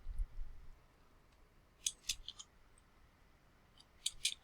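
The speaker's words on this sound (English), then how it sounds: "I'll start typing the date" Someone types a date on a computer keyboard in a word processor, producing faint, quick key clicks in two short clustered bursts separated by a quiet pause.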